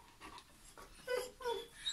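A dog named as a big whiner gives soft, high whimpers and breathy whines in short bursts, fairly close, with faint pants between them and no talking.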